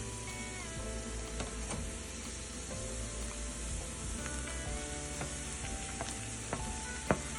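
Onions, chillies and tomatoes fry in a pan for masala Maggi, a constant loud sizzle with occasional clinks and stirring scrapes throughout, no talking.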